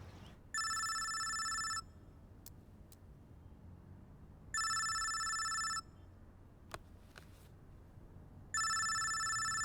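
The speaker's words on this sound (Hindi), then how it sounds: "इंक्वायरी ऑफिस से फोन है।" A telephone rings in three bursts spaced a few seconds apart, bright and electronic, over quiet room ambience with a few faint clicks.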